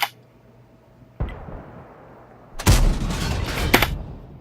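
Tank cannon fire in a game replay of an SU-122-44, a sharp blast followed by rumbling explosions and debris, with an earlier faint thud in a quiet background.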